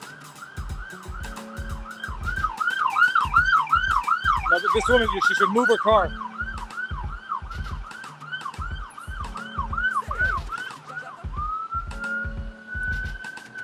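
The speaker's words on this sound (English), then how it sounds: "All right, I hear some fire trucks." Fire truck sirens wail, cycling rapidly and steadily, with a second siren joining midway, while someone talks over it amid traffic on an Ottawa street.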